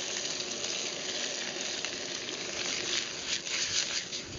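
Lemongrass chicken stir-fries in oil, with more oil just added, giving a steady dense sizzle close up with occasional crackling swells.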